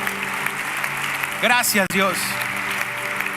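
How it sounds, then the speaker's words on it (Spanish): A church congregation applauds as a steady wash of many hands clapping, while someone speaks briefly over it. "Damos un fuerte aplauso a cada uno de ellos."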